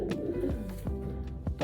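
A racing pigeon coos close by, repeating soft, low, throaty notes in a short rhythmic series.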